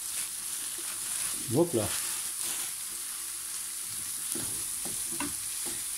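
Minced beef frying in a pan, a soft steady sizzle with a burst of stirring and scraping early on and a few light clinks later, with a voice speaking briefly.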